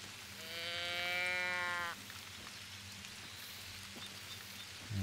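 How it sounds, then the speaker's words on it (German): Steady rain falls across a Mississippi hunting map in theHunter: Call of the Wild, a constant hiss with no speech. A sheep-like bleat rises briefly near the start, and a low thump comes at the end. "Wieder mal Regen auf der Map."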